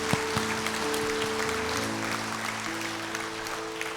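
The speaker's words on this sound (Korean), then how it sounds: "박수로 영광을 돌립니다." A church congregation claps together in steady, dense applause for about four seconds, with sustained keyboard or organ tones ringing underneath.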